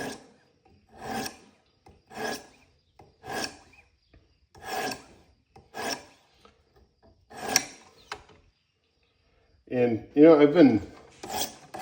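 A Wüsthof paring knife is stroked across the stones of a Wicked Edge sharpener, making about eight evenly spaced rasping scrapes that stand out clearly against quiet. Someone talks briefly near the end.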